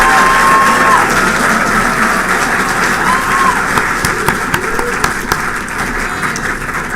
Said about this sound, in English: Let's give all these amazing students one more round of applause